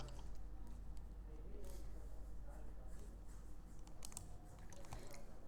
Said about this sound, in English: we type Node, then we press enter